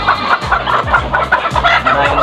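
Ready-to-lay hens clucking steadily in a close, busy chorus, with short overlapping calls repeating throughout and no talking.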